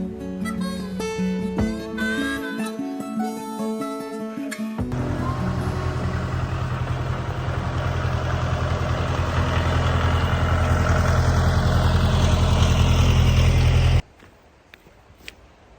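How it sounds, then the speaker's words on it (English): A heavy tractor engine rumbles in a steady low idle for several seconds after a musical opening, then cuts off abruptly, leaving near quiet. "I gotta go cut my tractor off and lock the door."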